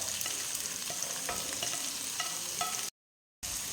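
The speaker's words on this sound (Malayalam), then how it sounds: "പച്ചമുളക് കറിവേപ്പില എന്നിവ ഇട്ട് വഴറ്റാം" Green chilies and curry leaves sautéing in hot oil for chicken kurma, a steady close sizzle with scattered stirring clicks, briefly cut to silence near the end.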